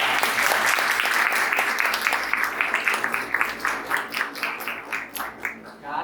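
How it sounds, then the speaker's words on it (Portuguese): Loud audience applause follows a motivational lecture, dense and full at first, then thinning into scattered, distinct claps that trail off toward the end. "Palmas para o Gustavo e para a"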